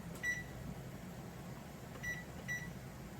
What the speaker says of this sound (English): I'm just going to set my timer.